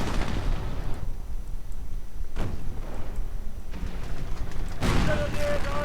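A video game battle rages with a continuous distant rattle of gunfire, broken by sharp, loud explosive blasts, the heaviest burst landing near the end.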